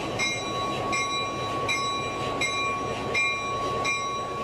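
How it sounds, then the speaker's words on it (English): A locomotive eases up to a caboose on a heritage railway, with a low rolling rumble and a regular series of sharp metallic wheel squeaks and clicks, near and fairly quiet, with no talk. "As the locomotive approaches the caboose, he checks that the couple is open to tie on."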